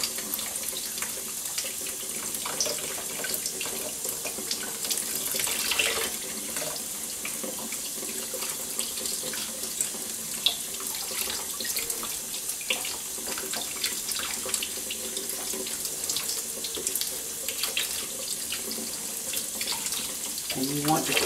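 Tap water runs steadily into a sink while raw shrimp are rinsed, a continuous hissing splash with faint clinks and handling noises throughout, fairly quiet and close.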